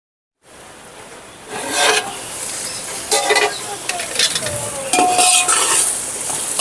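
Ginger paste with a little turmeric fries in a pan over a wood fire, starting after a brief silence with close crackling and repeated scraping and clinking of a spoon stirring against the metal.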